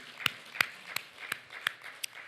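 Congregation in a church worship service clapping in a slow, steady rhythm, six sharp claps spaced roughly a third of a second apart, fairly close and moderately loud with no talking over them.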